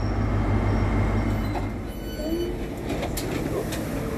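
An HST train with class 43 power cars at a station, a loud low diesel rumble that eases off as it passes, followed by rolling wheel and track noise with faint squeals.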